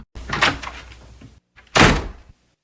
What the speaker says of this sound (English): The door of the office opened, and Belinda came in.